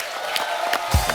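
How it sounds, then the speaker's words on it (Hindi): Hearty clapping and cheering from the audience at a Bollywood singers' tribute concert, with a few whoops rising over the claps and a low thump near the end. "जोरदार तालियां।"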